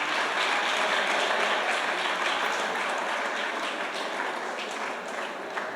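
A church congregation claps and cheers for the Lord, a dense, sustained wash of applause from many hands filling the room without a break.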